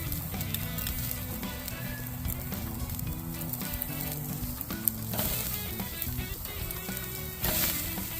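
USDA Prime steaks sizzling over charcoal on a Weber kettle grill, heard as a steady close crackling hiss of rendering fat with occasional pops, continuous throughout.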